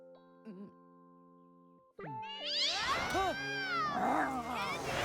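A cartoon cat in a Smurfs episode lets out a loud, wavering hiss and yowl that swells and bends for the last few seconds, following quieter synthetic tones and a short squeak.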